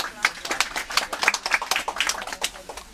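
Audience clapping at an outdoor nature storytelling festival, a scattered run of sharp hand claps at uneven intervals, moderately close and fairly light.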